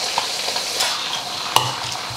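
Lean pork for Qishan saozi noodles sizzling loudly in a hot wok, a dense continuous frying hiss with a couple of sharp spatula knocks.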